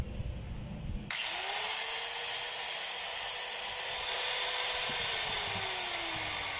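A repaired power tool's electric motor starts abruptly after a quiet moment and keeps running loud and steady, with a high whine that dips slightly near the end.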